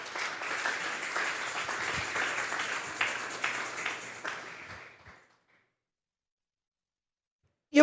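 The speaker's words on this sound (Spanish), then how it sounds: "Dele un fuerte aplauso pues al Señor." A church congregation at a Sunday service applauds, dense clapping holding steady for about five seconds and then fading out to silence.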